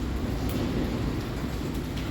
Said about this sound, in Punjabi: ਬਹੁਤ ਤੇਜ਼ ਬਾਰਿਸ਼ ਹੋ ਗਈ ਹੈ